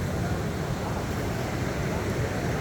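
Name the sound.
fast-flowing river beside the road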